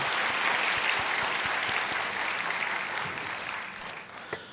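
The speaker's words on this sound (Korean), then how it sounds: "우리 다시 한번 박수로 격려하십시다" A church congregation claps for a hymn performance during a Korean sermon service, dense sustained applause filling the room for several seconds before gradually thinning out.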